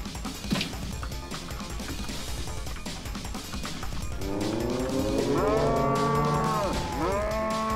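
A cow moos loudly and repeatedly in the video game Deeeer Simulator, drawn-out bellowing calls over game background noise, close and prominent in the second half.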